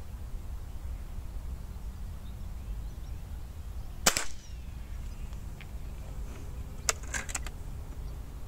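A PCP air rifle fires Norica Hamer or Excite Hamer pellets, giving one sharp crack near the middle and a few fainter snaps afterward, over a steady outdoor background rumble.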